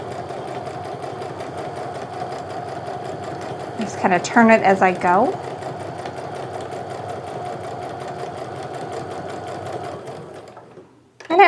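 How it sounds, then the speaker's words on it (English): A home sewing machine runs a short burst of stitching along the fabric edges of a sling bag, about a second of rapid whirring. Someone talks calmly before and after the stitching. "So I'm just go ahead and sew along those edges."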